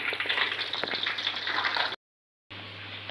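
Tilapia frying in a hot pan as it is flipped, a steady close sizzle and spatter that cuts out abruptly for a moment and then resumes at the same level, no voices.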